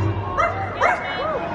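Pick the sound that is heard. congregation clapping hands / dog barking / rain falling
dog barking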